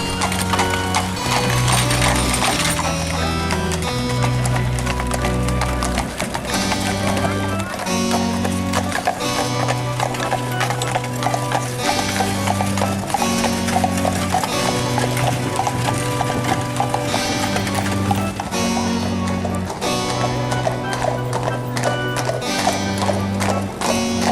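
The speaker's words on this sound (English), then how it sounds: "There are many carriages throughout the city" Horse-drawn carriages in the city of Washington clip-clop past in steady hoof rhythm, with occasional neighing, all heard under continuous loud music that dominates the scene.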